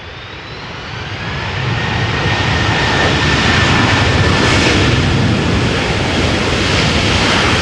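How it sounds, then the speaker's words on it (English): A Delta Airlines Airbus A330-300, eight years old, arriving from Minneapolis lands in gusty crosswind at Amsterdam Schiphol, its engine roar swelling loud and broad, then holding as a sustained rushing thunder with a faint whine, with reverse thrust. "This is Delta Airlines Flight 162, Airbus A330-300, arriving from Minneapolis"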